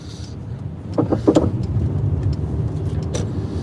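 A car drives along a road, its engine and tyre rumble steady and close, with a few brief clicks and bumps early on.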